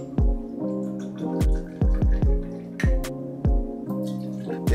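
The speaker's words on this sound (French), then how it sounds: "on va commencer par mettre 4 centilitres de Mafana dans notre verre à mélange" Mafana liqueur poured into a mixing glass in several short splashing bursts and drips, close and clear, with no talking.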